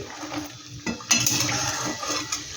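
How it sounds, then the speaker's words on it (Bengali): Pumpkin leaf rolls frying in a home kitchen pan, with soft sizzling under scraping and clinking of a spatula against the pan, a louder burst of activity midway, then steady frying with no talk. "ওই একইভাবে আমি আবার ভেজে নিচ্ছি"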